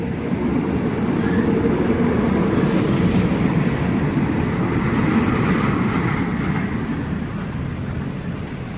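Passenger train number 169 rolls through the Ban Khu Bua level crossing in the evening, a loud, steady rumble of wheels and carriages that holds close for the whole stretch and eases only slightly at the end.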